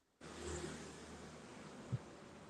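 A car passing on a street, heard as a steady, fairly loud engine rumble that starts abruptly and holds throughout, with a brief low thump near the end and no talking.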